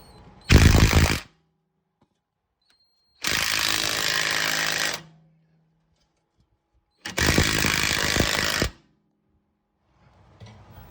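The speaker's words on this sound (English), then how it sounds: "I was able to switch to this smaller battery operated wrench" A battery-operated impact wrench removes an axle shaft bolt on a Ford Explorer during PTU and wheel bearing work, firing in three loud, close hammering bursts of about one to two seconds each, separated by quiet pauses.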